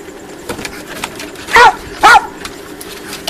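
A pet dog named May gives two sharp, close barks about half a second apart, standing out clearly against a quiet indoor background.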